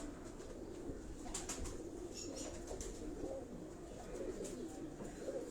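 Pigeons of several breeds in a rooftop breeding loft in Karachi coo softly, with occasional wing flutters and faint chirps over a low, steady background.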